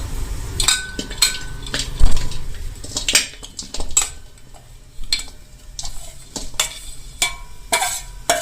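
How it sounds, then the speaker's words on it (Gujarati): Quarter kilo of jaggery tipped into a kadai for peanut chikki: close metallic clinks and scrapes of a spoon against the wok, irregular knocks and clatters with brief pauses between them. "તે જ કઢાઈમાં આપણે ગોળની પાઈ લેશું। આપણે જે 1/4 કિલો ગોળ લીધેલો છે તે કઢાઈમાં નાખી દેશું।"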